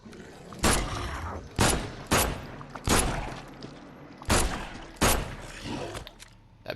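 Heavy single gunshots in The Sinking City crack out one at a time, about seven loud reports spaced roughly a second apart, each with a short ringing decay.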